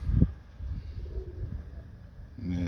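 A few low, muffled coos from Persian pigeons close by, broken by short pauses, over quiet background noise.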